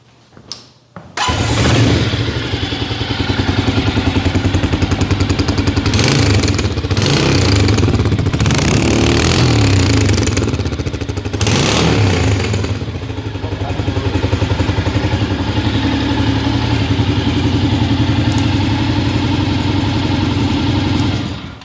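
A brand new 2023 Can-Am DS250 Desert Storm ATV fitted with a stage 1 performance kit starts up and runs steadily nearby, its loud engine idling with a few throttle blips and clattery mechanical noise, with no talking.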